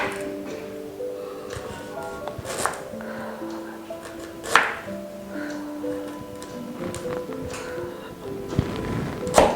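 A knife cuts fresh ginger into pieces on a board in a home kitchen, a few sharp taps and knocks spaced several seconds apart over steady background music.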